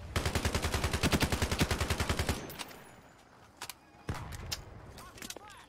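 A G36 rifle in Ironsight fires a fast, loud, evenly spaced automatic burst during a Search and Destroy match, followed by a few sparse single shots farther off.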